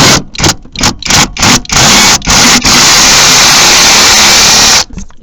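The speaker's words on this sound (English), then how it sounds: "if you use an impact gun upside down right here" An impact gun spins bolts out on a junkyard 1996 Jeep V8, firing in several short loud bursts and then one long continuous run before it stops.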